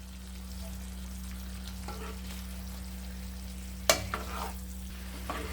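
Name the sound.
stirring fried chicken into curry gravy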